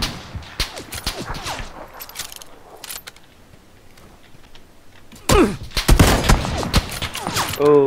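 Gunfire in the video game PUBG crackles in scattered bursts, with a heavier cluster of shots near the end while players talk over the fighting.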